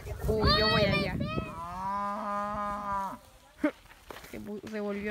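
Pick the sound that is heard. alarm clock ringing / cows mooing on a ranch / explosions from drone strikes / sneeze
cows mooing on a ranch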